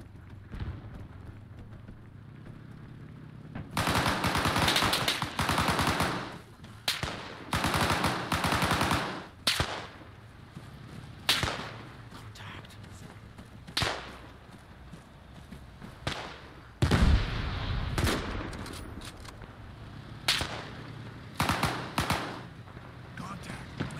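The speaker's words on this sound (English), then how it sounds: "Enemy fire!" Enemy gunfire in the World War II setting of Arma 3, bursts of automatic fire and single shots cracking at irregular intervals, some loud and close, others fainter, with brief gaps between volleys.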